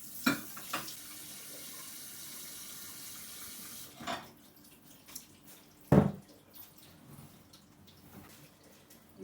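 Water splashing and running in a kitchen sink during dishwashing, soft steady flow broken by a few clattering knocks and splashes.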